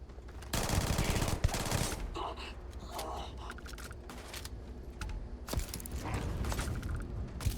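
Gunfire in the space game Starfield, with loud bursts of shots breaking out in clusters against steady mechanical background noise and clattering effects.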